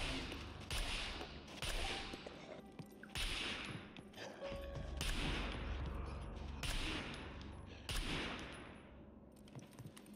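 Repeated loud bursts of automatic gunfire in the survival video game SCUM, set inside an abandoned coal mine, with several volleys separated by short pauses over about ten seconds.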